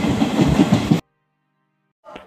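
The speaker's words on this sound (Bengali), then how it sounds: "সেখানে কিছুক্ষণ দাঁড়ানোর পর ট্রেন তার পরবর্তী গন্তব্যের দিকে ছেড়ে দিল।" On a train journey from Kolkata to Haridwar, a train runs along the tracks with a rumbling clatter for a second, then cuts to silence before a faint rattle returns.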